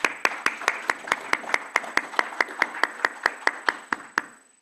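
Audience clapping for a board member, roughly twenty sharp, evenly spaced claps in a steady rhythm, close and clear, ending with a short fade.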